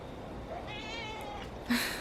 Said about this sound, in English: I'm gonna go feed my cat.